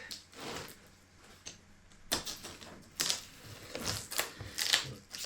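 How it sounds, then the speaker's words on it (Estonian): Motorcycle boot parcel being opened: a few sharp cardboard and packaging rips and rustles in quick bursts, fairly close, with no talking. "Nii, teeme selle paki lahti."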